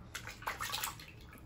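Warm water sloshes and splashes softly in a tub as a hen is bathed, a faint, close wet rustle with small bursts and no talking.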